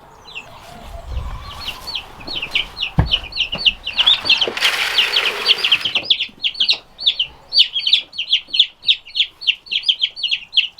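Slow-growing white meat chickens with blue legs and red combs cluck in a rapid, rhythmic string of short calls, nearby and clear, with a brief burst of background noise midway.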